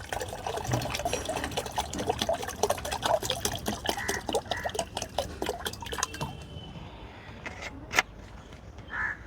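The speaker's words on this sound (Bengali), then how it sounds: "এই জলের মধ্যে আমি এখন কিচেন ওয়েস্টটা মিশিয়ে নিই এক লিটার লিকুইড মিশিয়ে দিচ্ছি" Liquid kitchen waste being poured into stored rainwater makes a continuous splashing, trickling pour, close and fairly loud, that thins out into a few drips near the end.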